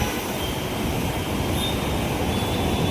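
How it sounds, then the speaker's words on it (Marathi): A metro train running, a steady broadband rumble of wheels and motion throughout, with a faint high whine above and no talk. "मेट्रो चालली आहे"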